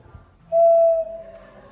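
A single steady whistle tone blown into a death whistle in an antique shop, sustained for about half a second at moderate loudness in a quiet room.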